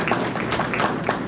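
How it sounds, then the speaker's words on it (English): Audience applause at a candidate forum in Jackson, Mississippi, a brief continuous wash of clapping from a crowd, steady and fairly loud throughout. "Give them a round of applause, please."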